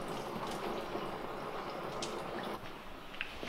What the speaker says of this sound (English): I'm just gonna fill this with water